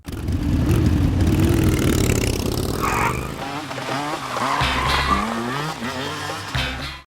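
Smart Brabus car driving in a film scene, engine roar and tire squeal loud and close, with shifting revs, screeches and a brief voice mixed into the action soundtrack.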